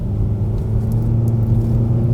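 A 2024 Hyundai Sonata SEL with the 2.5 engine revs in sport mode, giving a loud, steady low engine rumble heard from inside the car with no talking.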